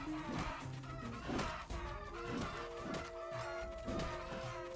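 Chickens in the Final Fantasy PSP game squawk and cluck amid repeated game hit and smash effects, a busy run of short clucks over tonal game sounds, faint overall.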